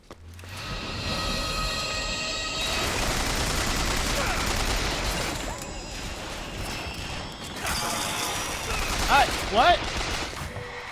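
Gunfire in the video game Bioshock Infinite rattles in rapid, sustained bursts aimed at the player, loud and continuous, with a heavy mechanical rumble underneath and a voice briefly exclaiming near the end.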